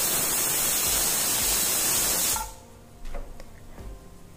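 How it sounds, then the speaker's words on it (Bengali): A pressure cooker of masoor dal on a gas stove lets out a loud, continuous steam hiss that cuts off abruptly after about two seconds, leaving faint kitchen clatter. "কুকার গ্যাসে গরম হতে বসিয়ে দিচ্ছি। 3টে সিটি দিয়ে নেব।"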